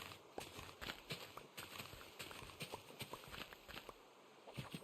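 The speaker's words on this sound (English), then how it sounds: "I can see the horse plotting its escape" Horse hooves clip-clopping in a survival video game, a quick uneven run of hoof clops at close range, fairly quiet and without talk.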